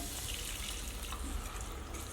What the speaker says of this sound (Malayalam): ലൈം ജ്യൂസ് ജ്യൂസ് ഇതിലേക്ക് ഒഴിക്കുന്നത്